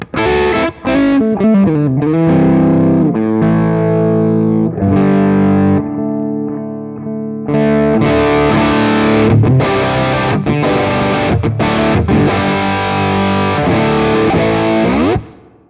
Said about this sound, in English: Now let's engage the guitar effects pedal.